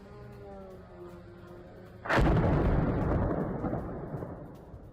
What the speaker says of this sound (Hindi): देखिए किस तरह से 250 से ज्यादा मिसाइलों का इस्तेमाल कर ये बड़ा हमला किया गया है कीव पर